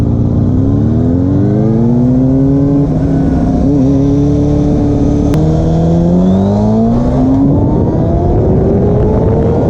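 A KTM 790 Duke motorcycle in track mode accelerates hard, its engine note climbing steadily through rising revs with a brief shift dip midway, loud and close throughout.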